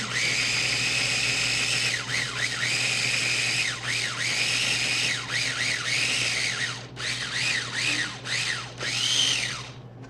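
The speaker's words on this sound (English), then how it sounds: "I'm just going to grind this up." A small electric food grinder whirs continuously, its pitch rising and falling in repeated swooping arcs as it grinds seasonings for a low-sodium recipe; loud and close, with no talking.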